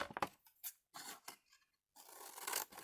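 Scissors snip through the end of a paper bag page in a junk journal, a few close, quiet crisp cuts and rasping paper slides separated by brief pauses.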